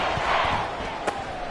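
A roaring home crowd of Seahawks fans fills a football video game stadium in the red zone on third down, steady and dense, with one sharp thump partway through and faint commentary beneath.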